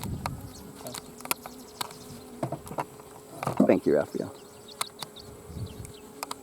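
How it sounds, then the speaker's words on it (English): Honeybees buzz in dense, wavering swarms at a busy, boiling-over hive in an apiary, the hum steady and close with sharper passes, while someone speaks briefly over it. "It's always a pleasure to the apiary, man, to see a busy hive."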